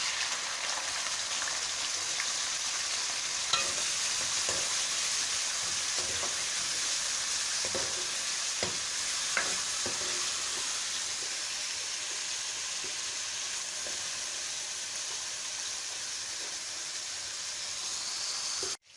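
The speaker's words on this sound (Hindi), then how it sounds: "अब हमारा ऑयल गर्म हो गया, इसके बाद हमने डालने प्याज।" Onions frying in hot oil for a Pakistani fish salan, a steady broadband sizzle holding evenly throughout with a few faint clicks, no voices.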